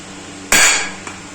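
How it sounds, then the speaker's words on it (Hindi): A single loud hammer blow strikes the centre of a woofer magnet to open it, giving a sharp metallic bang that rings briefly before a faint second tap follows. "एक हथौड़ा लेंगे और इसका सेंटर पे आपको जोर से मारना है।"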